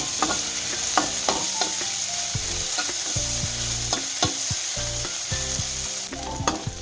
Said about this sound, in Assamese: এইখিনি এতিয়া ভালদৰে ভাজি ল'ম অলপ।